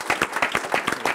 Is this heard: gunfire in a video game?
no